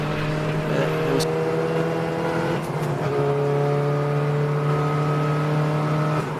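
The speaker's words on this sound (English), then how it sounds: "some more cars coming through" Race cars lapping Silverstone's GP circuit during the 750 Motor Club Birkett Relay, a sustained loud engine drone whose pitch shifts as several cars pass through steadily, with no pauses.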